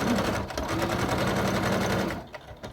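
A sewing machine top-stitches a fabric wallet, its needle chattering in a fast, even run for about two seconds before stopping abruptly, loud and close.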